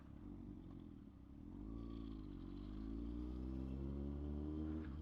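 A Kawasaki ZX-6R 636 cc sport motorcycle rumbles through traffic, its engine note close and loud, climbing in pitch as it revs, then holding a steady, throaty drone without talk.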